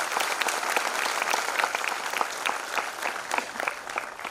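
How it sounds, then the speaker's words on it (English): An audience at a school annual day for tiny tots claps steadily, a dense sustained applause of many hands close by, with no talking over it. "So a big round of applause to the teachers and to the participants, the Tiny Tots, for such a wonderful morning."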